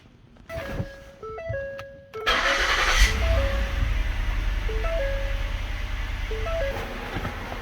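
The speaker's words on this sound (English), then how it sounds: "Okay, so we're going to go ahead and start the vehicle and let it warm up." A Ford vehicle's engine cranks and catches about two seconds in, then settles into a loud, steady idle rumble while electronic chime tones ring intermittently over it.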